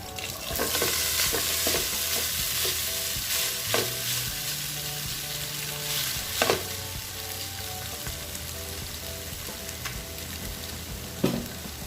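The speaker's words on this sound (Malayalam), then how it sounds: "ഇനി ഇതിലേക്ക് നമുക്ക് എടുത്ത് വെച്ചിരിക്കുന്ന വേവിച്ച് വെച്ചിരിക്കുന്ന ചോറ് ചേർത്ത് കൊടുക്കാം." Cooked rice stirred into onions fried in ghee in a pan, with a steady close sizzle of frying under repeated scraping stir strokes and a few sharper clinks of the spoon against the pan, with no talking.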